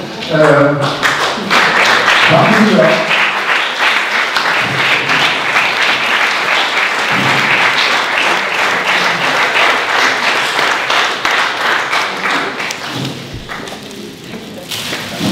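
Hearty applause from an audience at a landscape exhibition in Amstelveen for the organisers, loud sustained clapping lasting well over ten seconds with occasional thumps, and a voice speaking briefly at the start and end.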